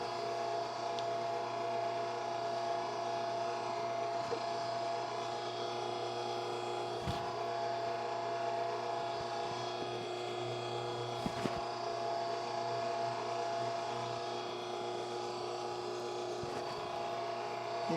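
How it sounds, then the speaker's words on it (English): Electric meat grinder working through deer meat, a steady loud motor whine with a constant mechanical drone that runs unbroken, with only slight dips in load. "This grinder is going to take it."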